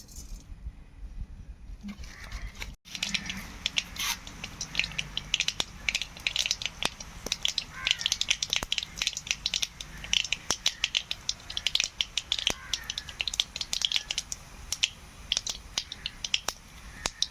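Mustard seeds splutter in hot coconut oil in a pan, a dense run of sharp pops and crackles. The sound is close and continuous after a quiet start, with no talk.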